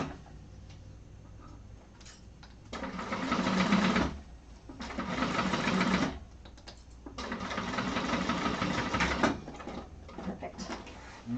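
A sewing machine top stitches a martini bag in bursts, a quiet rapid rattling chatter running for a couple of seconds at a time with short pauses between runs, fairly close with no speech.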